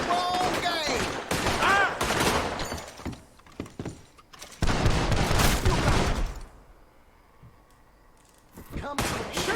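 Gunfire in the Red Dead Redemption II video game, a volley of sharp shots with breaking and shattering sounds. Shouting voices are mixed in, and a short quieter stretch comes near the end.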